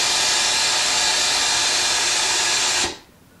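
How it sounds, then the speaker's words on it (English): A vacuum pump in a woodworking shop, used to pull the air out for a kitchen sliding door glue-up, runs with a loud steady hiss and whine, then cuts off abruptly near the end. "I'm letting it continue to run a bit because I want to make sure it stays under vacuum and gets all the air out."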